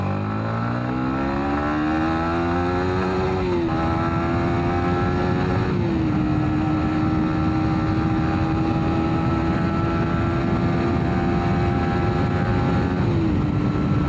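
A Yamaha MT-15 motorcycle accelerating from second gear, its engine note rising in pitch and dropping briefly at each upshift, several gear changes over a steady, loud, close roar with wind noise.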